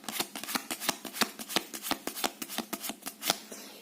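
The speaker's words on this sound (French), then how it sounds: "Je vais mélanger la carte que je dois faire deviner avec les 11" A deck of Similo Contes game cards is shuffled by hand, a fast close run of about twenty crisp riffling slaps in an even rhythm, with no voices.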